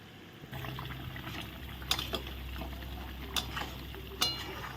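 Water pours into a pot of potato curry for a yoghurt katla fish dish, a steady close liquid wash with a few small splashes and pops over an even simmering hiss.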